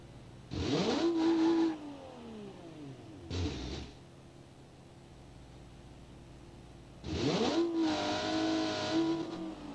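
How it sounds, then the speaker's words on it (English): A pickup truck engine in a racing game screams up in first gear and bounces off the rev limiter, three loud bursts of revving separated by quieter idle gaps. "I ran into the rev limiter for way too long in first."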